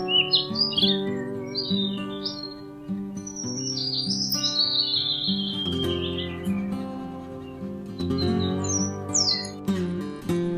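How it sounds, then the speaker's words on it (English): A sparrow chirps and tweets in quick, high bursts throughout, laid over a steady bed of sustained tonal background music. "This is sparrow."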